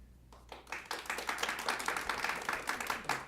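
Applause from the audience at a county board of commissioners' public meeting follows a public comment: steady, fairly dense clapping from many hands that lasts several seconds at moderate volume, heard from across the room.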